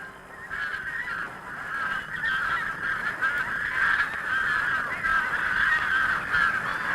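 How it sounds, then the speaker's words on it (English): Flocks of pink-footed and greylag geese honk overhead above spring hills as they migrate north toward the Arctic, a dense, continuous chorus of overlapping calls that stays steady and fairly loud throughout. "Pinkfoot and grey-lag geese"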